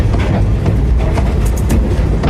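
A train rolls along the rails with a loud, steady broadband rumble and faint rhythmic clatter, heard close and alone for a couple of seconds.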